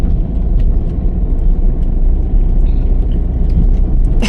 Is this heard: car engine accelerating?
yes